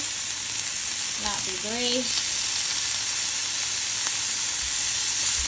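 Jumbo shrimp sizzle steadily in a hot frying pan, a broad continuous hiss running through the whole stretch, with a brief spoken voice partway in.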